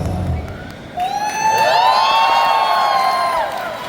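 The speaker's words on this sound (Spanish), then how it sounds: "Fuerte esos aplausos" An audience at an anime convention talk cheers and whoops loudly. High shrill shouts and wavering cries rise over a dense wash of crowd noise that swells after the first second and holds before easing.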